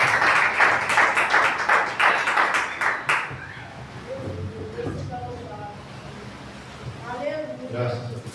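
A church congregation bursts into loud, dense clapping for a few seconds, then the applause stops and a voice continues speaking over a quieter room.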